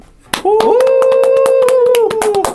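A handful of people in a studio clap their hands on cue, a quick, steady burst of about fifteen sharp claps, close and loud, with a sustained voice running underneath.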